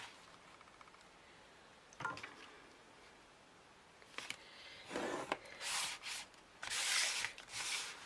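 A fold line is scored by hand on paper for a homemade coin envelope, heard as a few close, dry rubbing and scraping strokes in short bursts, with quiet gaps between them.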